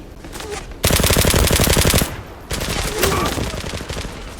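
Gunfire in the video game Zula: a loud sustained automatic burst, a short pause, then a second rattling burst that trails off, with faint game background around it.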